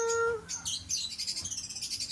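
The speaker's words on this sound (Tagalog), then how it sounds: "Ayan po ang pinaka colorful na parrot." Bright, high parrot calls repeat rapidly in a chattering series after an opening whistle-like note, fairly close and clear with no talking, in San Luis, Pampanga.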